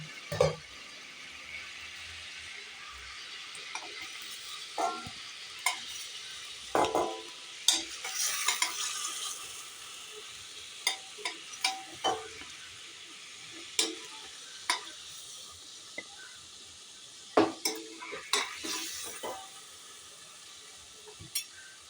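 Fried chicken pieces stirred with a utensil in a pan and lifted out, quiet sizzling under a series of sharp scraping and tapping clicks spaced irregularly, close by, with no talking.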